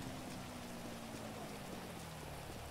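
Steady rain in the video game GTA V, a dense, even hiss of falling drops with no pauses, fairly quiet and heard alone.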